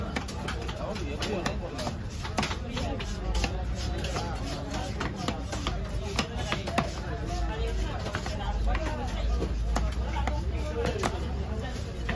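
A huge tuna is hacked apart with repeated sharp chops at the busy Kasimedu fish market, the blows coming steadily under constant crowd chatter and nearby pigeons cooing.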